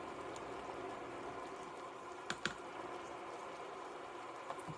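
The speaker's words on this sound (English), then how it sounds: "So we're gonna let this simmer like this for a few more minutes." A pot of thick white chicken chili simmers with a faint, soft bubbling and occasional small pops and squishes, close by and quiet.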